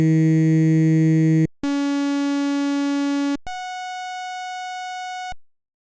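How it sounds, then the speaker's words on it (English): Three sustained electronic tones in a row, a voice broken into sine waves, each a steady buzzy stack of harmonics at a different pitch, separated by brief gaps. "here's a demonstration of my voice being broken up into the smallest unit."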